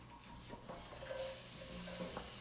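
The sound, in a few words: onion added to a hot pan, sizzling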